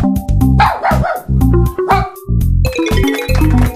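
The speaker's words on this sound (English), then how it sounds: "this is a dog" A dog barks over and over in quick, loud, close bursts, a steady run of sharp woofs with no voices.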